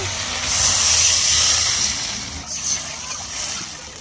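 Hilsa fish curry broth with chilli paste boils in a pot, a steady, close, airy bubbling hiss that swells and eases slightly over a few seconds.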